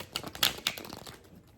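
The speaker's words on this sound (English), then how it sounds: "let's give this a shuffle" A tarot card deck being shuffled by hand, giving a quick run of close, crisp papery riffles and flicks with a couple of sharper snaps, loud at first and then trailing off, with no talking.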